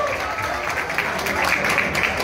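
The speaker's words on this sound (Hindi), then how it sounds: "ताली बजाइए सर के लिए।" Audience applause at a celebratory event, a dense, steady wash of clapping from many people filling the whole stretch at a fairly loud, even level.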